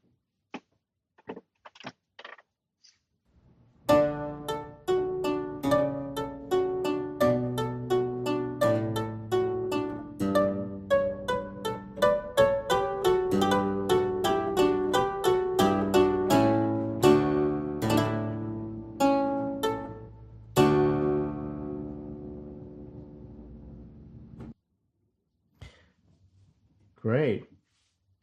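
A harpsichord played with the buff stop (lute stop), felt pressing against the strings, gives muted, plucked notes in a steady run of chords and figures for about twenty seconds, close and clear, with short bursts of talk before and after.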